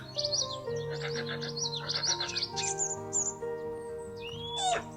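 Black-crowned night heron calls from the Wingspan board game: a busy run of bright chirps and whistled tweets over sustained tonal background music, with a sharp rising squawk near the end, moderately loud and free of talk.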